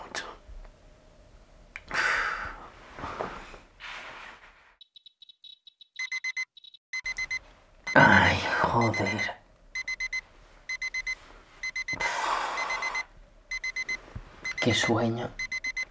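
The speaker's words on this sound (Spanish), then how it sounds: "ha sonado el despertador y me quedo un rato más durmiendo" An alarm clock rings in a bedroom in repeated bursts of high electronic beeps, broken by pauses, while a drowsy person groans, sighs and mutters in Spanish between the rings.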